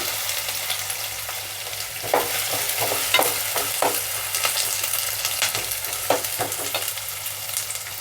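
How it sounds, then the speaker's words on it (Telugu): Sliced onions and curry leaves frying in hot oil with ginger-garlic paste in a pan for a knol khol and pea kurma, a continuous close sizzle broken by repeated spatula scrapes and taps. "రెండు రెమ్మలు కరివేపాకు ఉల్లిపాయలు బాగా వేగనిద్దాము"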